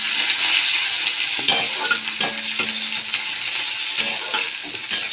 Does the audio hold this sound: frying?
yes